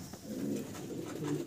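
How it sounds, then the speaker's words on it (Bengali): Young Shadel racer pigeons coo in a soft, continuous low murmur that rises slightly near the end, close by with no talking. "দুই জোড়া শ্যাডেল রেসার কবুতর, সবগুলাই ইয়াং কবুতর"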